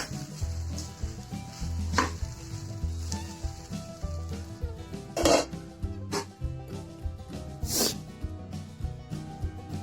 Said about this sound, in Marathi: साबुदाण्याला आपण चांगल्या प्रकारे परतवून घेतलेला आहे.